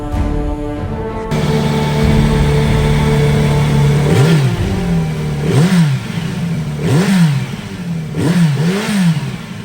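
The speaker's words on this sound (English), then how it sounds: "this is a Kawasaki Z900RS" A 2018 Kawasaki Z900RS Cafe motorcycle engine, loud and close, idling steadily and then blipped through several quick revs that rise and fall in a repeating pattern.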